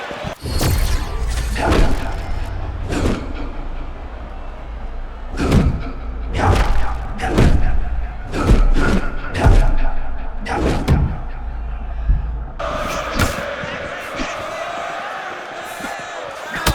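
Punches thud and slam in a UFC fighting video game, a series of heavy impacts in bursts over crowd noise, with a commentator's voice in places.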